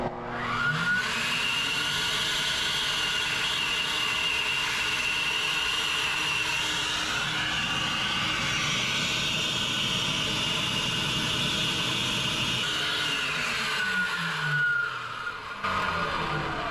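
An airflow flow bench measuring a cylinder head at an auto expo spins up to a loud, steady whirring roar with a rising whine, holds it, then winds down near the end.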